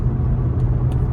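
A car drives past with a low, steady engine rumble that fills the foreground, loud and close, with no voices over it.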